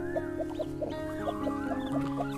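A mother hen clucks in short repeated notes amid chicks' high peeping, both close and steady, on a farm where young chicks are being gathered into a brooder in morning sun.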